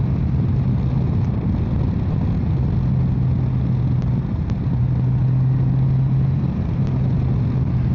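A Honda Gold Wing motorcycle rides along Route 276 over Caesar's Head with a constant low engine drone and wind rush that holds steady throughout.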